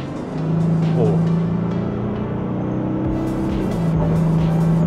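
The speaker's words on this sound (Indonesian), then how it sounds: "Kita coba akselerasi di mode normal ya." A Toyota Land Cruiser 300 accelerates in normal mode, its engine drone rising steadily and then settling, heard from inside the cabin with a loud, continuous tone and wind noise.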